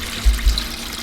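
Water flows and splashes from a small sluice into the main tub where a pump sits, a short steady rush with two soft low thumps near the start.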